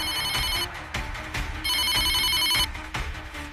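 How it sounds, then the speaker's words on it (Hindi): A telephone sitting on an office desk rings with a bright electronic trill, in two long bursts separated by a short gap, loud and close, with no voices. "रखा फोन बजने लगता है।"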